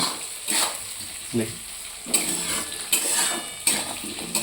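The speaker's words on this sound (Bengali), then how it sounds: "এই আলু মেশাচ্ছি" Potatoes are stirred into a frying chicken curry in a pot, bringing several scraping stirs over a sizzling background.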